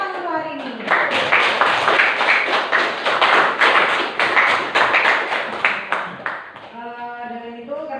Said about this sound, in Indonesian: tepuk tangan untuk hari ini